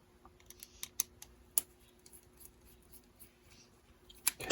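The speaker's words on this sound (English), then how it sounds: "let's pull these screws out" Small screws are backed out of a vintage Coby CX50 pocket radio, giving sparse, quiet clicks and scrapes close up in near silence, with a louder rattle at the end.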